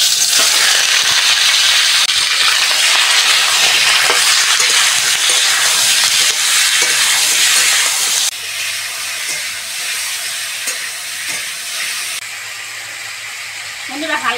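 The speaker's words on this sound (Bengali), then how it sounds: "এবার বন্ধুরা হালকা করে টমেটো আর শসাটা ভেজে নেব।" Tomato and cucumber fry in hot mustard oil in a wok, giving a loud, dense sizzle and hiss that continues throughout and eases slightly partway through, with faint stirring sounds.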